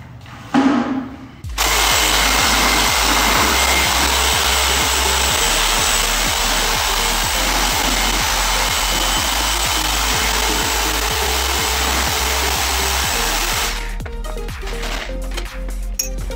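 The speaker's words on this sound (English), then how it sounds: "Now we're gonna take our drill and we're gonna mix it all together." A power drill whirs loudly and continuously for several seconds with a rhythmic churning as it mixes thick water-based garage floor epoxy coating, then winds down.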